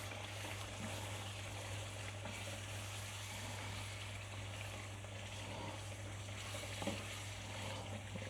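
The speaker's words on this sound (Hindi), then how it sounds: "इसके अंदर मैं मलाई डालूँगा और अब इसको मैंने मिक्स कर लेना है।" Cream being stirred into sizzling chicken karahi, a faint, even frying hiss under a low steady hum, with only slight stirring movement.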